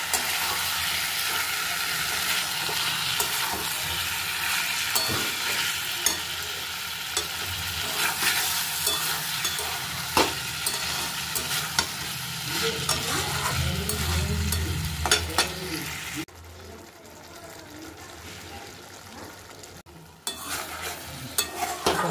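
Masala sautéing on a high flame in a pan gives a loud, continuous sizzle with frequent scraping and clinking stirs, quieting briefly near the end before resuming; no voices.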